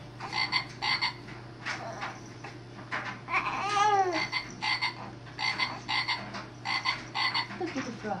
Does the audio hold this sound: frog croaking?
yes